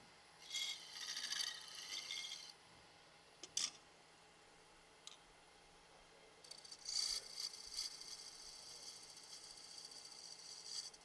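Hand sanding a wooden lid with fine-grit abrasive to 400, heard as soft raspy rubbing strokes in two main bursts with a few brief scrapes between, quiet and close with no talking.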